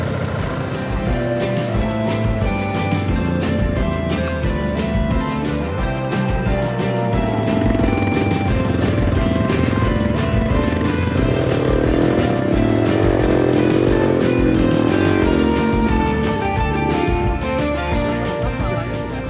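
Motorcycles with road tyres ride a loose, rocky track toward a volcanic crater, engines droning loudly and continuously with rough, shifting mechanical tones and gravel crunch throughout.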